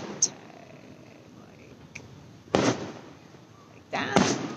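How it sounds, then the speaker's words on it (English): Fourth of July fireworks go off in front of a house in Arlington, Texas: three or four distant bursts and pops, rather faint, over a low murmur of background noise. "so she can see the fireworks"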